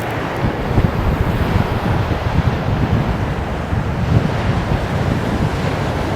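Strong wind rushes and buffets continuously, a low, rumbling gusty roar close to the microphone with no one speaking.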